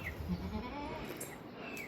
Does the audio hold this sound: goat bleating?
yes